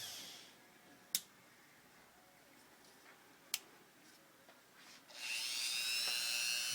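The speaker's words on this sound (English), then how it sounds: "50 thousandths drill bit in the Dremel." Small Dremel rotary tool fitted with a 50-thousandths drill bit whirs into life near the end, a high steady buzz after a few faint sharp clicks in a quiet room.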